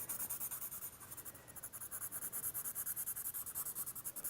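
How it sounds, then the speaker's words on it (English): A pencil scribbles back and forth over paper while a sketchbook drawing of a washing line is filled in, making close, quiet, rapid rhythmic scratching strokes that keep a steady pace throughout. "Scribbling over the whole thing."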